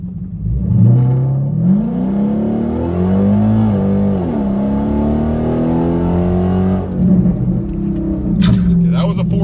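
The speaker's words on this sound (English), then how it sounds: "I'm going to try and hook this thing up and see what it will do 0 to 60." A 2019 Dodge Hellcat in 500 horsepower mode launching from 0 to 60 on the street, its loud engine climbing through gear shifts in a sustained roar before easing off.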